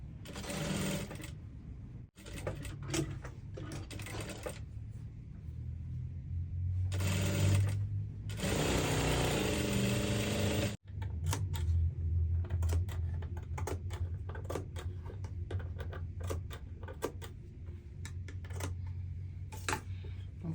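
A sewing machine runs in long bursts as it stitches the facing of an off-shoulder flare dress, loud and steady with a few short pauses between runs and no talk.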